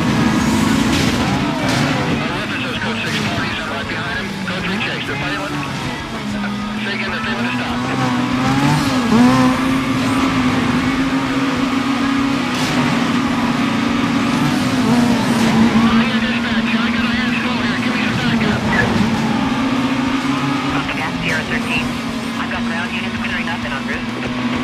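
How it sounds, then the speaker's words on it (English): Car engine revving and pulling away in the racing game Need for Speed Most Wanted (2005), a loud, steady engine drone with rising pitch and some tire noise, with a voice talking over it. "vehicle pulling away here"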